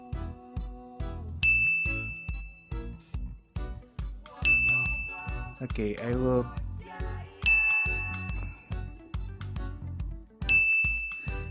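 A desktop ding alert played through a headset and caught by a podcast microphone on a MAONOCASTER Lite AU-AM200 setup, several bright clear chimes recurring at intervals over a busy musical backing, with a brief spoken reply.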